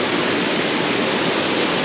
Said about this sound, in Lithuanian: Krioklys, kad tu čia bėgi